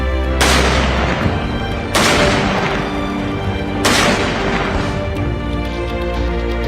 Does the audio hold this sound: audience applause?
no